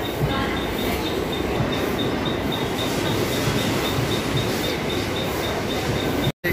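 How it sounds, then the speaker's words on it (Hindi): A train pulling into platform one at Dadar station in Mumbai, a loud steady rumble and rail roar filling the whole stretch with a faint high squeal, no talk over it. "आपको बता दें कि अभी ट्रेन आ गई, ये देखिए।"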